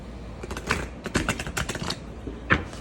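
Tarot cards being shuffled by hand, close up, giving a series of crisp riffling flicks and taps in irregular bursts that rise and fall over a few seconds, ending with a single sharp snap.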